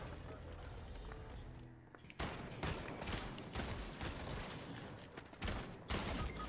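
Rapid gunfire in Fortnite, a quiet stretch of game sound followed by repeated sharp bursts of shots in quick succession, close and punchy.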